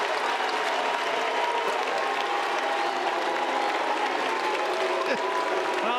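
Crowd at a college baseball Super Regional game in Chapel Hill cheering and applauding a three-run home run, a steady wash of claps and shouts sustained throughout.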